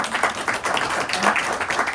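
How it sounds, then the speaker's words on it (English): A room of people applauds the women present, a short burst of dense, steady clapping heard at close range. "So I just want to take a minute to applaud all the women in this room"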